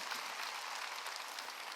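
A church congregation applauds in a large hall, a brief, dense burst of many hands clapping together at moderate volume.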